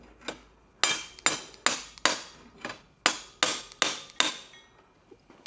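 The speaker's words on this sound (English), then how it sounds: "Just going to use this metal shaft here and tap the axle out." Metal shaft hammered against a tricycle rear axle to tap it out, about nine sharp, loud metallic strikes in an uneven rhythm with brief ringing after each blow, no talk.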